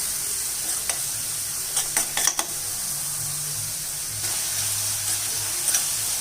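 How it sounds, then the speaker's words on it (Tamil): Onion and garlic sautéing in a pan for a paarai fish curry: a continuous soft sizzle broken by a few brief spoon clicks and scrapes. No one speaks. "நல்லா இந்த வெங்காயம் பூண்டு வதங்கும் போது நல்லா கமகமான வாசனை வருது"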